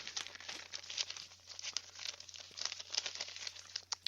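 A sheet of paper is crumpled by hand in a quiet room, giving soft, faint crinkles and crackles in irregular bursts for several seconds, with a low steady hum underneath.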